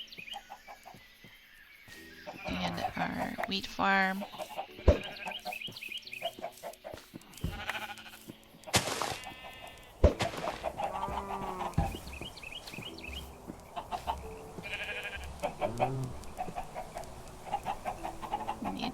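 Video game chickens cluck and squawk around a farm area with wheat fields, alongside bleating goats or sheep, in scattered bursts near and far, with a brief spoken line in between.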